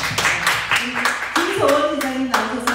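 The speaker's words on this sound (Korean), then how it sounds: "우리 격려의 박수 한번 할까요?" A church school congregation claps in encouragement for Sunday school students, a short burst of scattered hand claps mixed with speaking voices and a sustained tone in the room.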